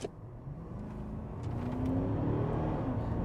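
Audi SQ8 diesel accelerating in sport mode, a steady low engine drone that builds gradually in loudness over a few seconds, heard from inside the cabin.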